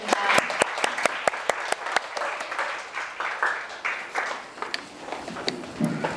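Steady audience applause fills a room at a university orientation event, dense clapping with a few louder individual claps standing out, holding throughout with a faint voice underneath.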